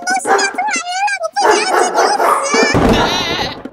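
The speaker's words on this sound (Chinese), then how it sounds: "你冷静一下，只是狗叫声啊！" A dog barks and yips repeatedly at close range, loud and insistent, mixed with excited human voices talking and exclaiming over it throughout.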